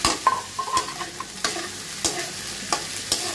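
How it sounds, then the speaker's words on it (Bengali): Boiled chickpeas sizzle in hot oil with chopped onions while a spoon scrapes and stirs them, giving a steady crackling hiss broken by regular stirring knocks, close and with no voices. "পেঁয়াজটা সামান্য পরিমাণ ভেজে নেওয়ার পর সিদ্ধ করা বুটগুলো দিয়ে দিচ্ছি।"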